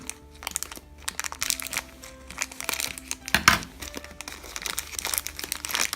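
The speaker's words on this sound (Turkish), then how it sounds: "Önce birinci paketimizi açalım." A Trash Pack toy surprise packet is torn and opened by hand, giving close, bursty plastic crinkling and rustling with one sharper crackle midway.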